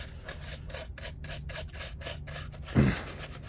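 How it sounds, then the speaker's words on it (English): A shoe is scrubbed with a brush and a homemade cleaner: rapid, rhythmic rubbing strokes close up, about a dozen in quick succession, ending with a louder scrape. "I'm not even scrubbing that vigorously."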